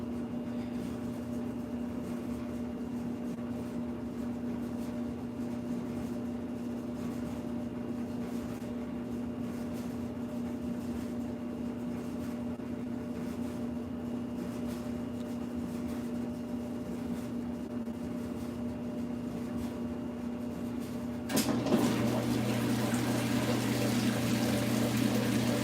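Amana direct drive washing machine draining water, a steady motor hum and pump drone with a sudden louder, fuller surge of rushing water near the end.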